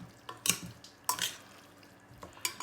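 A utensil stirs soy sauce into food, making a few soft scraping, clinking strokes against the dish in separate bursts, close and quiet.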